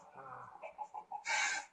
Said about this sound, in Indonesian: Ringtone burung gagak.